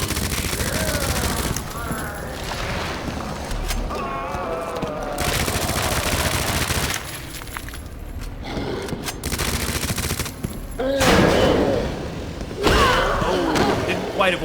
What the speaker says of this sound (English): we are just gonna unload the submachine gun into him